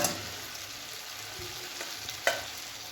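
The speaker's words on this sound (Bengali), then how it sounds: "এই মশলাটাকে কিন্তু ভালোভাবে কষতে দিতে হবে" Spice masala sautéing in a pan on low gas, with a soft continuous sizzle and gentle stirring scrapes. One sharper clink of the utensil stands out near the end. No voices.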